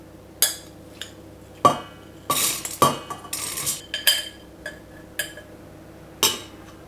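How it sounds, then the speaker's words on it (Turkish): A metal cooking pot being handled on a stove while making lentil soup, with scattered clanks, knocks and scraping clinks at an uneven pace, close by and with no talking. "Tenceremi aldım önüme."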